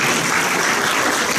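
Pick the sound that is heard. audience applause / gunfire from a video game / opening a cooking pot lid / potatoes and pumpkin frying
audience applause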